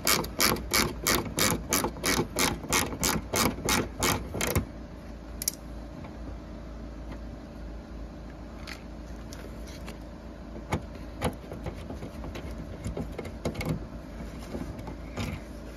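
Ratchet backing out a screw from the rear bumper of a BMW X5 F15, a rapid run of about a dozen loud, close clicks in even rhythm, then quieter ambience with a few scattered ticks and clicks.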